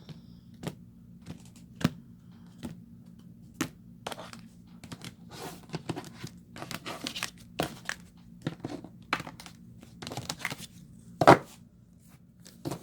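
A deck of tarot cards cut and shuffled by hand, sharp papery snaps and riffles arriving in irregular bursts over a quiet low background hum, with no talking.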